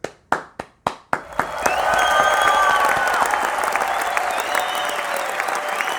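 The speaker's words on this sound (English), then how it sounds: "Let's give you a round of applause" A few separate claps start things off, then a full round of applause from a crowd swells and holds steady, loud and sustained, with no talking over it.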